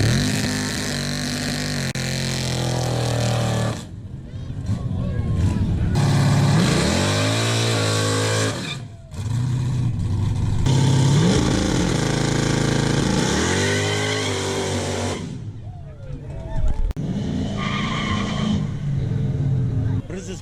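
Ford Mustang engine revving hard during a burnout, loud and close, with rising and falling rev sweeps, brief drops between pulls, and people talking over the roar.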